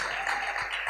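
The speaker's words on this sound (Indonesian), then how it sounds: "Kasih tepuk tangan dong teman-teman." Brief applause from a gathering of friends at a church party event, steady and moderately loud, filling a short moment without clear speech.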